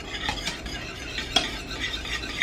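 Homemade pudding is whisked briskly in a pot over medium heat, with quick, rhythmic metal strokes against the pot over a faint bubbling background.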